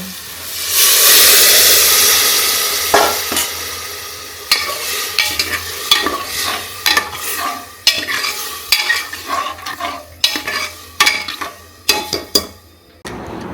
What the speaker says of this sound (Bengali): কষায় নেওয়া শেষ এখন দিয়ে দিচ্ছি জল